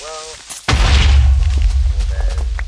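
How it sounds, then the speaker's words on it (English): A sudden loud blast goes off in the Minecraft block-building game, a deep rumbling explosion that starts abruptly after a quiet moment and keeps roaring to the end. "For the second explosion in this video though."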